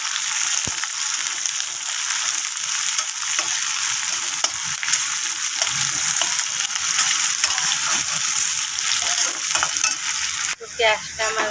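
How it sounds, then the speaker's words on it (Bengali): Onions being lightly browned in a pan with garlic and green chilli, before okra goes in: a loud, continuous close sizzle with occasional stirring knocks, a clatter near the end, and no voices. "পেঁয়াজটা আমি একটু লাল করেছি হালকা করে।"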